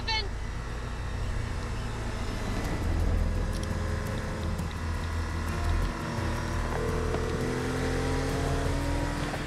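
A car engine hums steadily while driving, its low rumble swelling and easing, with excited voices shouting over it.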